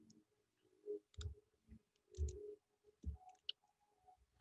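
Several sharp mouse clicks sound close by while a project is set up in Minecraft Education, spaced irregularly, quiet and alone with no talking.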